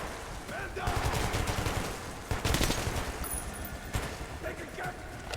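Gunfire in the video game Metro 2033, bursts of rapid shots in two clusters over a dense, busy game background, loud and close.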